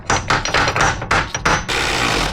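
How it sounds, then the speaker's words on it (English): Rapid, loud metallic hammer blows in quick succession, close by, with a steady ringing clatter between strikes, as studs are hammered into a Volvo P2 power steering rack. "what you heard was actually me just hammering on it from the top"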